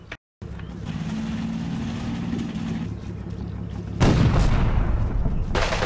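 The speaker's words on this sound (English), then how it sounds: "this position here needs to be bombarded" Artillery bombardment of a position in the Combat Mission video game: a continuous low rumbling roar that swells sharply partway through with harsh blasts and bursts of noise, and no voices.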